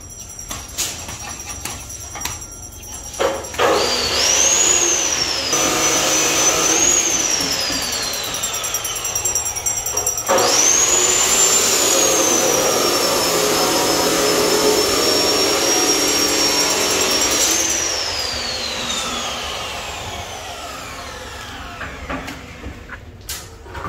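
A power cutter cuts on a resort construction site during floor work. Its loud whine sweeps up as the blade spins, holds a long high cutting tone, then winds down, with several separate cuts in a row.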